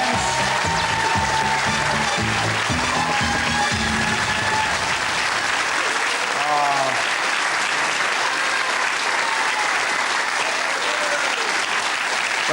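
Studio audience on a TV quiz show breaks into loud, sustained applause, dense clapping filling the room for the full length, with a voice speaking briefly over it early on.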